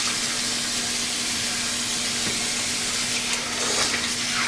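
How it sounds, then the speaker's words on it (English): A tap runs in a steady, close, hissing stream for a quick face rinse, with faint splashing near the end and no talking. "I'm going to do a quick rinse."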